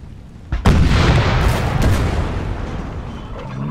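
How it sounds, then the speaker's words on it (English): Artillery firing canister shot in Napoleon: Total War, one loud close boom followed by a long rumbling roar of battle that slowly fades, with a few fainter thuds near the end. "Okay, canister shot, let's see."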